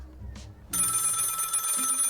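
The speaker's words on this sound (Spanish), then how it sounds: "Suena el teléfono." A telephone starts ringing in the video game Lil Guardsman, a shrill continuous electronic bell that cuts in after a short moment of quiet game ambience and keeps ringing steadily, close and loud.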